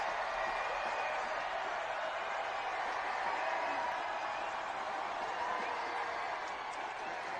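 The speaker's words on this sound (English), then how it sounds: "this crowd is absolutely loving that strike" A stadium crowd at a women's soccer match roars in a steady, distant wash after a goal, with a voice speaking over the cheering.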